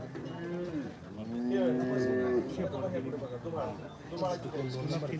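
Cows moo in drawn-out, low calls at a milking competition, one especially long and loud near the middle, while people talk steadily throughout.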